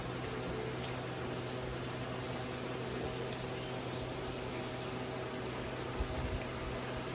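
A household air cooler runs steadily, its even whooshing drone and low motor hum filling the room at a constant level, with only a faint knock near the end.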